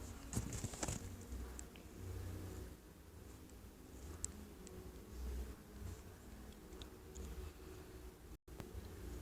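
Hooves clip-clop from a Minecraft horse, quiet, irregular footfalls over a low ambient bed in a game scene, with a few faint clicks and no talking.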